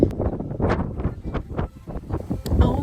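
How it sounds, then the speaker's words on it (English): Gusty wind buffets the microphone in uneven bursts, with a low rumble underneath and faint background noise, out on an open deck of the Disney Wish cruise ship. "It's pretty windy"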